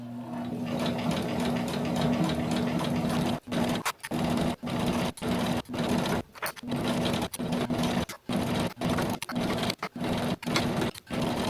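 A sewing machine stitches a dress in a steady, loud mechanical whir, broken by a string of brief stops and restarts as the seam is guided along.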